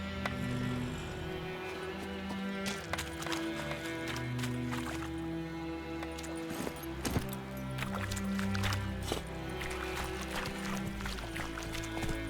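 Horse hooves gallop in a steady, continuous rhythm in The Witcher 3 video game, fairly close and sustained throughout, with tonal background sound.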